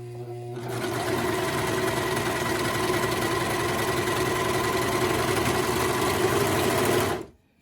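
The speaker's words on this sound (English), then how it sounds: "I'm going to put my serger down. And let's start serging." A serger runs fast stitching fabric, a steady mechanical whir and rapid chatter that starts after a short quiet moment, holds evenly for several seconds, then stops abruptly, heard up close.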